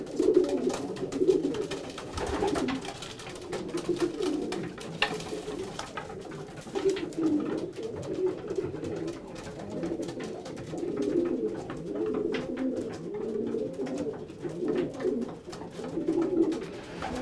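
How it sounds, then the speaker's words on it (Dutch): Racing pigeons coo in a loft in Amsterdam: soft, low, repeated rolling coos from several birds overlap throughout, fairly close, with occasional rustling and no talking. "Voor de maandag staan de duiven er best weer aardig op."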